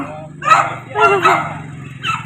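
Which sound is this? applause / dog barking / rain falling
dog barking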